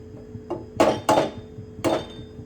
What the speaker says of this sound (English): I'm gonna put a little bit of coconut oil in here and crack the eggs